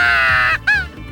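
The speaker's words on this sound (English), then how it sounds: "the wooden calls have a much truer crow-like sound to them" A handmade wooden crow call blown close by gives two loud, raspy caws, a long drawn note followed by a shorter one after a brief gap.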